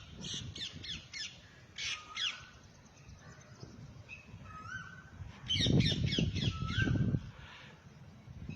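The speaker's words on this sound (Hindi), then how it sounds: "जहाँ पे पक्षियों की आवाज़ें इस तरह से आ रही है" Crows caw in repeated bursts at Brahma Sarovar in Kurukshetra, harsh calls at moderate distance in clusters, with other bird squawks and a stretch of louder rustling noise partway through.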